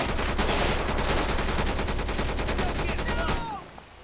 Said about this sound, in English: Shit, they're shooting me!